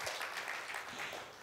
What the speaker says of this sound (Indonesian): Yang mau beri tepuk tangan yuk buat Tuhan kita Yesus Kristus.